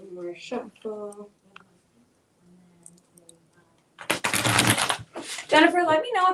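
Tarot cards being shuffled, a dense papery riffle of a few seconds coming after quiet talk, with a voice speaking softly before and around it.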